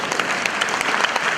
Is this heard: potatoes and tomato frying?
no